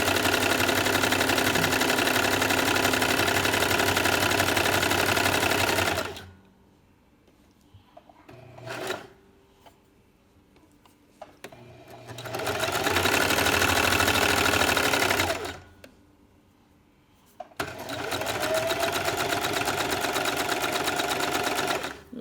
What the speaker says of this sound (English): I am just gonna do a zigzag all the way down the side